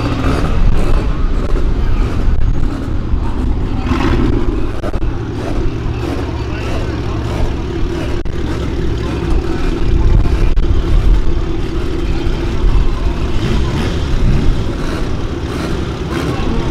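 A Chevrolet Camaro V8 on 22-inch wheels revs hard and steadily for the whole stretch, a loud, close, low engine roar that swells and dips, with people talking and shouting underneath.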